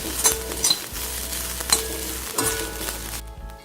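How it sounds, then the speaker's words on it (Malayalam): Grated coconut stirred into a sizzling pappadam stir-fry (upperi/thoran), with several quick scraping spoon strokes against the pan over a continuous frying hiss, close and clear. "ഗ്രേറ്റ് ചെയ്ത തേങ്ങ ഇതൊന്ന് മിക്സ് ചെയ്ത് കൊടുക്കാം."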